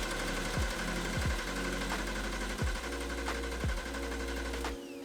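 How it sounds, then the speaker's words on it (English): Porsche 964 Turbo engine cranked on the starter with ignition disabled, a steady mechanical whir with rhythmic dips as the starter turns it over, close and continuous before stopping near the end. "we can crank the engine safely and watch the oil pressure gauge"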